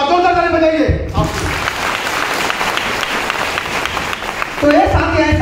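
Loud applause from a seminar audience, a dense burst of clapping that lasts about three and a half seconds between stretches of amplified speech.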